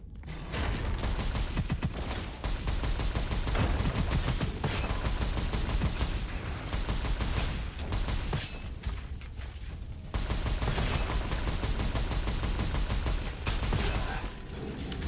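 Rapid automatic gunfire from a weapon in the shooter game Gunfire Reborn, loud dense bursts running almost continuously with a few brief gaps, no talking.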